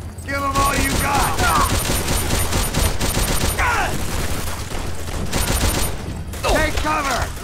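Continuous volleys of rifle and machine-gun fire in the PS2 game Call of Duty: World at War, loud and dense throughout, with shouted soldier voices breaking through the shooting.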